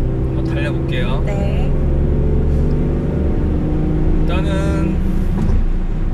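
A Mercedes-Benz E43 AMG accelerating on a highway: a steady, deep engine and road drone heard from inside the cabin, while people talk over it.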